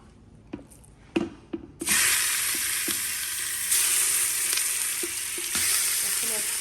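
Food hits a hot Instant Pot at about two seconds and sizzles loudly and steadily from then on, a dense frying hiss with faint stirring clicks. A few light knocks come before it.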